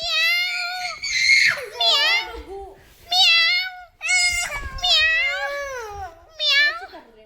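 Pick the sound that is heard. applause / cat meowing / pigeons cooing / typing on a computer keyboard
cat meowing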